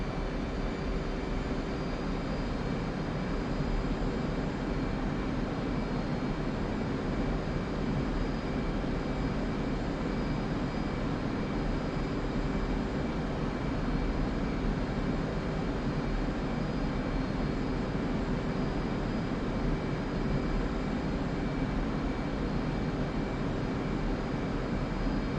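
In a flight simulator game, a jet aircraft's engine runs at full throttle without afterburner during a 10-degree climb, a steady, loud, unbroken roar throughout, with no talk.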